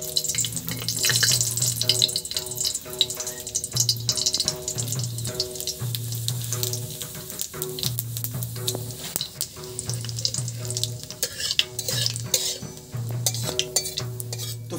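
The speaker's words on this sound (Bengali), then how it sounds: "এখন আমি কড়াইয়ে দিয়ে দিব ফোড়ন, যার মধ্যে দিব জিরা, তেজপাতা আর শুকনো লঙ্কা।" Cumin, bay leaf and dried chillies frying in hot oil in a wok for chicken curry give a steady low sizzle with occasional stirring, mostly under louder background music with a repeating melody.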